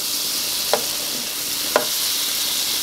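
A large amount of butter sizzling in a skillet ahead of adding rice for vegetable fried rice, a steady close hiss with two brief scraping stirs.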